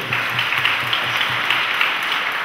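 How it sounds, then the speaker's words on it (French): An audience at a Haitian solidarity day event for the Polish community breaks into applause, a dense steady patter of many hands clapping together, fairly loud and close throughout. "On nous applaudit s'il vous plaît."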